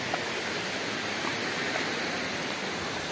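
A waterfall at Pandav Falls in Panna Tiger Reserve gives a steady, unbroken roar of rushing water, loud and even throughout, with no voices.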